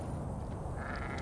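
Sheep bleating in the survival game Surviving the Aftermath, a faint distant bleat or two buried in a dense steady ambient wash of wind and low rumble.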